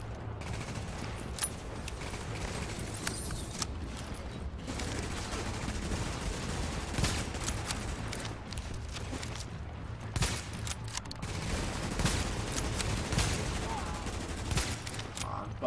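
Steady rapid gunfire with flame bullets from a sniper position in The Division, in the Lincoln Tunnel, rattling on in dense bursts over continuous battle noise with mechanical clicks.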